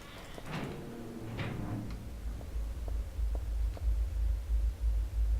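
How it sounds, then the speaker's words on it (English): A loud, creepy dragging sound in the video game Silent Hill 3: a deep, heavy bass rumble that swells and pulses, preceded by a few scattered knocks and clicks. "It's a loud, creepy dragging sound, which I did not hear before when I played this"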